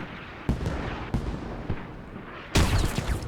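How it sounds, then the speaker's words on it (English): A grenade blast in the military shooter Squad during a tournament match, a sharp loud boom near the end that follows scattered gunshots and distant explosions through a busy battlefield soundscape. "Here comes a grenade."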